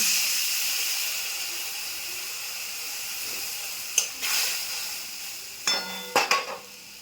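Water poured into a hot pan of mustard paste hisses and steams, a loud sizzle that slowly fades, followed by a few sharp clinks of a utensil against the pan.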